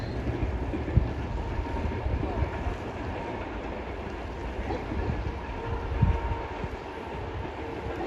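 A train passes in a forested spot near Verkhovyna in the Carpathians, its continuous rolling rumble broken by a few rail knocks, with wind noise and a voice speaking over it.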